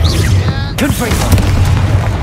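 In the video game Hogwarts Legacy, a Confringo blasting spell goes off as a short, loud burst with a booming low end, followed by crackling spell effects and a voice in the game.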